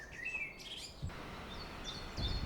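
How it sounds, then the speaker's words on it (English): Birds sing in a forest in early spring, with high, bright chirps and whistled calls repeating over a soft outdoor background. They sound moderately near, and no one speaks. "The birds are getting ready for spring."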